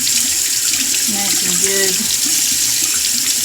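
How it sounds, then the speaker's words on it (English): A sink tap running hot then cold water for a kitten bath: a loud, steady rushing gush of water from start to finish, with someone talking briefly under it. "turn on the hot water first, and then I'll turn on the cold water"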